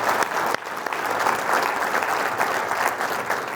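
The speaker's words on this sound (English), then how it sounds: "let's do one more round of applause for the outstanding African American cultural ensemble" Ceremony audience giving a full round of applause after an African American cultural ensemble performance at a dean's investiture, dense steady clapping filling the room with a few sharper individual claps standing out.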